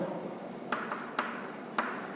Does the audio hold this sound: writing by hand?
yes